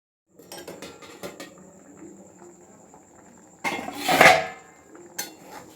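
A lid set onto a cooking pot of simmering tomatoes and oats gives a sharp metallic clatter partway through, with lighter utensil clinks before and after in a quiet kitchen.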